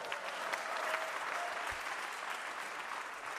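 A studio audience applauds steadily for several seconds, a dense, even patter of clapping that holds at constant loudness with no voices over it.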